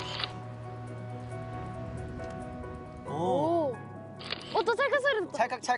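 Camera shutter clicks while photographing a cabbage field, sounding as short crisp bursts in quick succession, mixed with speech and a steady background hum.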